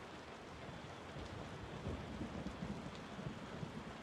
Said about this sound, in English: It's raining. I love this.